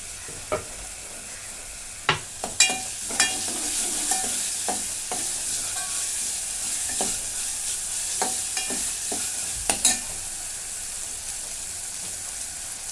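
Masala frying in a pan with ground paste added, a steady sizzle under scattered scraping stir clicks and spoon taps, no voices.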